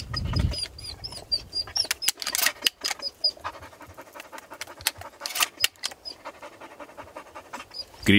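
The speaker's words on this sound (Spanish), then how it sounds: "Las primeras palomas de la tarde empiezan a pasar." Wild pigeons flying past at an evening pigeon shoot with a decoy in Alicante: bursts of flapping wings come close and fade, with panting breaths and occasional bird chirps in between.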